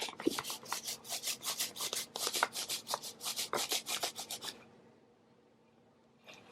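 Fabric rubbed and scrunched close by in a quick run of rough, swishing strokes for about four seconds, then near silence.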